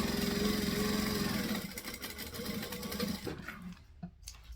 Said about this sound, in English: see how you can sew faster because I'm less worried about all the vinyl stretching and misbehaving